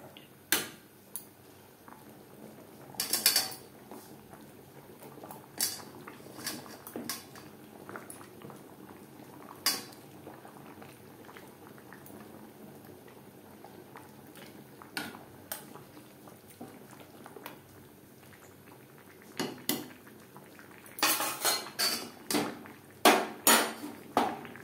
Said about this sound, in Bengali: এই পর্যায়ে দিয়ে দেব ভেজে রাখা মাছের মাথা।